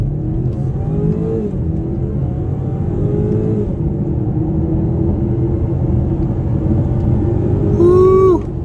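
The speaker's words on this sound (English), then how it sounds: "Hopefully, we'll get a chance to try out an acceleration off the line in a second." A 2023 BMW X4 xDrive30i with a turbocharged four-cylinder accelerates under load, its engine note climbing through gears as a loud, steady rumble heard from inside the cabin, rising to a higher rev near the end.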